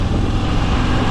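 Loud, steady broadband rumble of a Moto Guzzi V85TT motorcycle riding slowly through a neighborhood, a constant engine and wind roar with no pauses.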